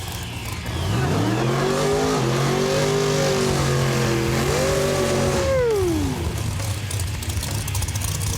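A drag racing car makes a pass down the strip, its engine revving loudly and climbing in pitch through the gears with a brief dip at a shift, then fading as it pulls away.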